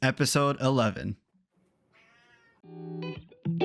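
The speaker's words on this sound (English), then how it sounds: "Sorry if you hear the cat in the background." A cat meows in the background, a couple of short, fairly loud cries that follow someone talking, with a quiet pause between the speech and the meows.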